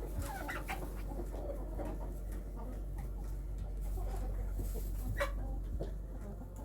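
Chickens, including lavender Orpingtons, cluck and murmur softly in a coop throughout, with scattered louder squawks over a low, constant background hum.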